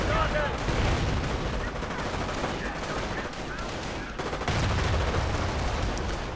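Artillery and gunfire rumble through a World War II real-time strategy battle as shells strike a squad of grenadiers, a dense, continuous barrage of blasts and crackling shots with a commentator talking over it.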